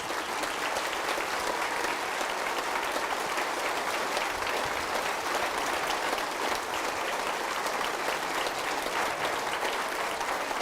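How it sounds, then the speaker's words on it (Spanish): A church congregation at a Catholic mass in Mexico breaks into loud, sustained applause for the Gospel reading, a dense, even clatter of many hands clapping without pause for the full stretch. "Fuerte el aplauso a la palabra de Dios."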